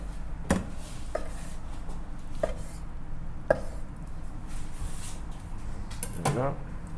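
A knife chops through octopus (tako) on a board, with a handful of separate sharp cuts spaced irregularly over several seconds against a quiet kitchen background.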